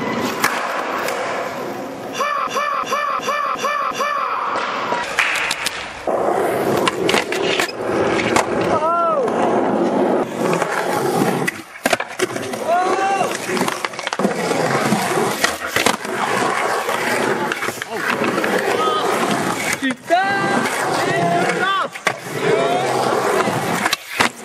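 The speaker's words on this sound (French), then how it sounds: "Skateboard." Skateboard wheels roll continuously with clacks and scrapes, joined by louder grinding and intermittent voices over a steady, busy background.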